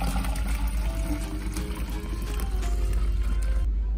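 Warm water pours steadily into a tube outdoors in a garden, a continuous broad splashing gush that is loud and close, cutting off abruptly at the end.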